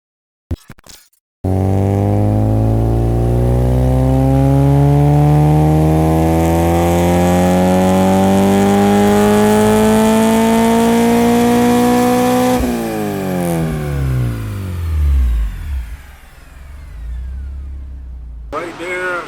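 A Honda B20 VTEC-converted engine on a dyno revs up in one long, loud sustained pull, its pitch climbing steadily for about eleven seconds before cutting off and winding down, with a short burst at the start.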